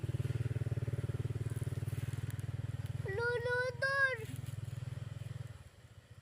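A motorcycle engine idles nearby with a steady low throb, while a child calls out briefly over it before the motor cuts off near the end.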